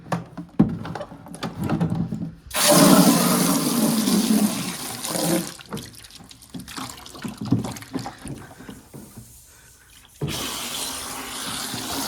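Water gushes from a tap into a bucket during morning chores on a hobby farm, a strong steady rush that stops, then resumes after a quieter pause with faint handling noises.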